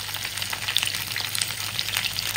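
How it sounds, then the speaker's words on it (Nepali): Onions sizzle and crackle steadily in a pan with pork cooked without oil, Nepali style, making a close, continuous hiss with small pops and no talking. "अनियन हालेर एकछिन पर्पर भुट्ने"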